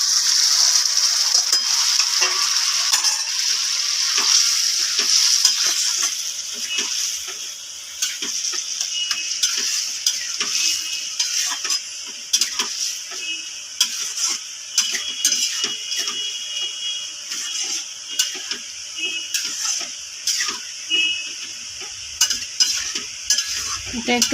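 Boiled lentils poured into spiced potato curry in a pan, sizzling and bubbling with repeated scraping and stirring strokes of a spoon against the metal, close and steady throughout.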